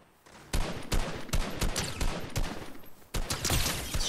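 Gunfire in the video game Fortnite comes in sharp, loud bursts of rapid shots, several volleys spread across a few seconds, ringing out close and alone with no one speaking.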